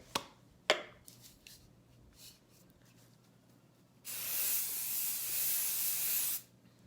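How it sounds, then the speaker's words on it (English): A few light taps and clicks, then Krylon setting spray hisses onto a face for about two seconds, close and fairly loud. "I'm going to spray my face with the"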